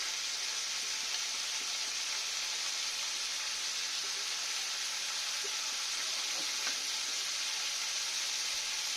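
Prawns sautéing in a pan for a poppy-seed prawn dish, a constant, even hissing sizzle throughout with faint occasional stirring clicks, close and steady.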